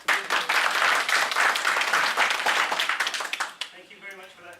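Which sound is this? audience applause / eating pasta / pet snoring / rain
audience applause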